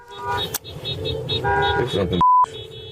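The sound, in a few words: car horn honking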